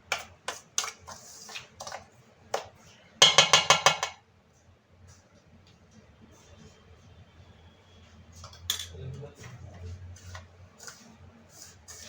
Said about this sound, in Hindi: अब इन सामानों को चम्मच से या हाथों से अच्छे से मिक्स कर देते हैं।